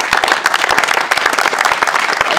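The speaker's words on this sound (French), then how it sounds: "Est-ce qu'on peut acclamer Jésus?" A church congregation applauds to acclaim Jesus, a dense, steady burst of many hands clapping nearby, lasting throughout without a break.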